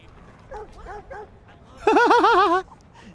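A dog in the video game Watch Dogs 2 gives a few short yips, then a louder, longer whining bark, clear and close with quiet gaps between the sounds.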